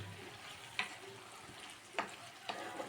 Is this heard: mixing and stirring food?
yes